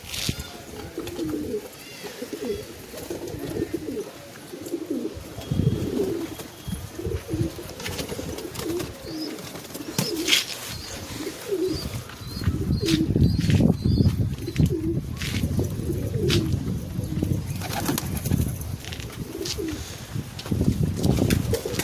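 Pigeons at a loft, one with red eyes and one with a black tail, coo steadily close by while wings flap and clatter in bursts, busier and louder toward the end.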